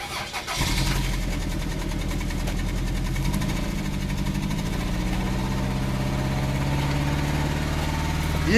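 A car engine fires up and settles into a loud, steady mid-pitched drone, then rises in pitch as the accelerator is pressed and held.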